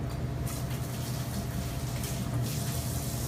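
Tap water running while hands are washed in a kitchen, a steady close hiss and splash that continues evenly throughout with no speech.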